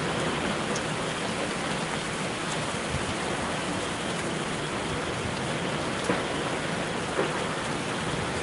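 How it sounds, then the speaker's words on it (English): Steady rain falling outdoors in Charleston, South Carolina during Hurricane Dorian, picked up by a live street webcam, a continuous even hiss with a few faint drips and taps and no voices. "it does look or sound like it's raining"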